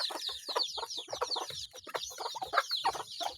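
Native chickens cluck busily while being fed, a cluster of short, overlapping clucks and chirps nearby with no talking.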